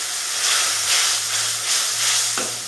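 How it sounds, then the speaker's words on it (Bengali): Bengali rui fish jhol broth with potato and bori hits a hot pan and sets off a loud, steady hiss of sizzling and steam that swells and eases in waves, with nothing else heard over it. "প্রথমে আমি ঝোলটা ঢেলে দিলাম"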